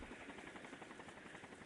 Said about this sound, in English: a massive helicopter appeared from the other side of the mountain